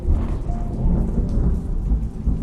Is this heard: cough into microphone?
no